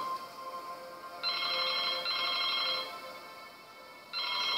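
A telephone rings in the video game Broken Sword 2, an electronic trilling ring in repeated bursts over a steady background hum, fairly loud and with no voices.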